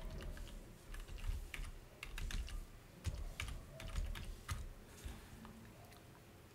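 A name is typed on a computer keyboard in irregular bursts of soft key clicks, close and quiet, with short pauses between runs of keystrokes and no talking.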